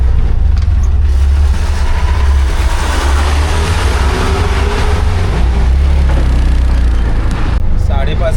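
A village route bus from Sangameshwar pulls in with a loud, steady low engine rumble that runs throughout, while people talk nearby over the noise.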